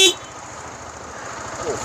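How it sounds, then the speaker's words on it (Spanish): A Zontes G1 155 Scrambler motorcycle horn gives one short, sharp beep right at the start, then fades into a low, steady background hum. "Bastante bien la bocina, ¿eh?"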